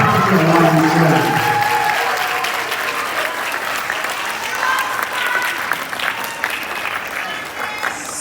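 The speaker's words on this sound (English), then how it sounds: "express their gratitude with a heartfelt round of applause to everyone who has supported you along the journey" Graduates at a college commencement ceremony give a heartfelt round of applause, loud dense clapping at first that thins and eases over several seconds, with faint crowd murmur underneath.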